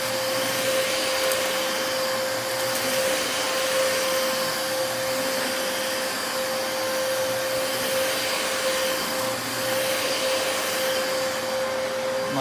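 A Dyson DC33 Multi Floor upright vacuum cleaner runs continuously while sucking up shredded paper, a loud, steady motor whine with a strong sustained tone and airy rush, close and alone.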